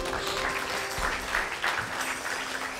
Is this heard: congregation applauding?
yes